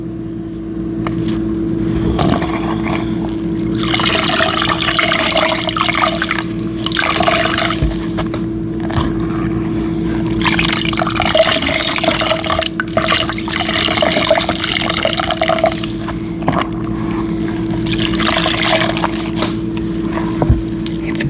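Water sloshing with soap and a sponge, building suds in repeated wet bursts of squishing and splashing separated by quieter pauses, all close and clear with a constant low hum underneath.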